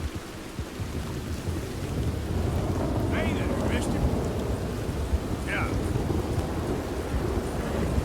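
Heavy rain and thunder during a storm in Red Dead Redemption, a video game: a loud, continuous rain roar with low rumbling, plus a few brief higher sounds, while a person speaks over it.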